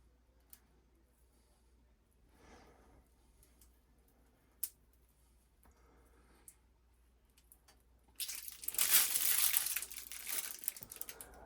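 A plastic piping bag is squeezed and crinkled while Rum Baba is made, with faint crackles and ticks at first, then a louder burst of crinkling near the end.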